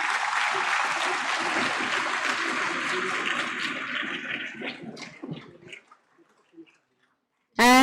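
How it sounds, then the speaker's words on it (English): Audience applause at the INSPIRE Awards-MANAK NLEPC 2022 award ceremony in Vigyan Bhavan: dense, sustained clapping that thins out and fades to a few scattered claps, then stops abruptly. "A big round of applause for yourself,"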